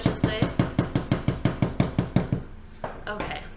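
A hammer strikes a metal stamped moon pendant in a rapid, steady series of about a dozen sharp, close metallic taps, followed by a few lighter, scattered knocks.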